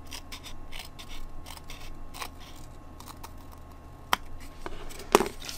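Scissors cut through corrugated cardboard in a quiet room, making a run of soft snips and crinkles with two sharper clicks near the end, and no voices.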